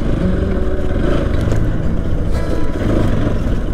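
A motorcycle is ridden through a park in Nepal, its engine a loud, steady, close rumble with rattling clatter and no pauses.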